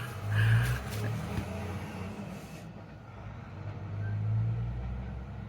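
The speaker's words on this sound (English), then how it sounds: "Just waiting for a lorry to go past" A lorry drives past outside, a low rumbling engine that swells, fades, then swells again as it passes at moderate distance, with no talking.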